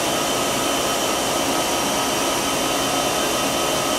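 A Haas VF-4 vertical machining center's spindle spins up to 6,000 RPM, a steady, loud broadband whine and rush of air that holds evenly throughout with no talking.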